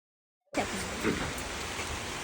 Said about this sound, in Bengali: এই দেশে বৃষ্টি হলে ছাড়ে না